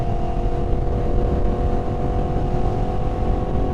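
A motorcycle engine runs at high revs around a gear shift, holding a steady, loud drone with little change in pitch, close and continuous throughout.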